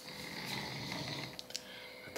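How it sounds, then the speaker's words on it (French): A person snores faintly nearby in a quiet room on Mataiva atoll, with a soft, slow breathy rasp and a few brief snorts over low background noise. "J'ai un ogre qui ronfle."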